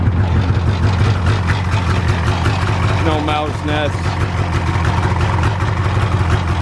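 A snowmobile engine idles steadily as it warms up, giving a constant, even mechanical drone up close while someone briefly speaks over it.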